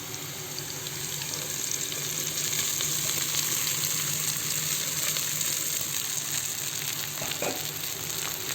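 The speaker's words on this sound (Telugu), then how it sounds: "ఇప్పుడు ఈ ఇడ్లీని దీంట్లో వేసుకోవాలి." Idli pieces fry in a pan for idli upma, giving a steady, fairly loud sizzle that runs unbroken from start to finish with no talking.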